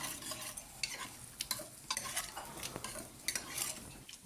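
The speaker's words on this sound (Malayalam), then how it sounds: "ഉപ്പ് ഇട്ട് കൊടുത്തതിന് ശേഷം നല്ലപോലെ ഒന്ന് ഇളക്കി കൊടുക്കുക." Chickpea, potato and carrot poori masala curry is stirred in a pan after salt goes in, giving repeated scraping and clinking strokes over a low sizzle at close range, with no voices.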